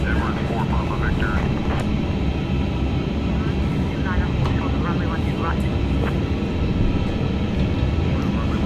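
Airbus A350 jet engines spooling up to takeoff thrust in Flight Simulator 2024, a loud steady roar throughout with pilot radio chatter and callouts over it.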